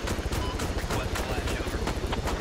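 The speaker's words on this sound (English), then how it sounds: "here comes the fire from the helicopter" Gunfire from a helicopter in the video game Arma 3 rattles in rapid bursts over the constant drone of rotor blades, loud and dense throughout.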